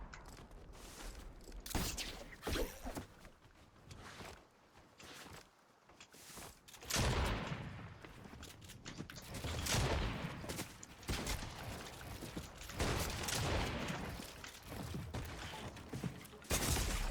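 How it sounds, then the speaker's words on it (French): Infantry rifle gunfire in the shooter game Unreal Reload, dense bursts of shots and clatter spread through a busy firefight, loud and continuous with mechanical rattles between volleys. "Là, le fusil d'infanterie, c'est vraiment mon arme, hein."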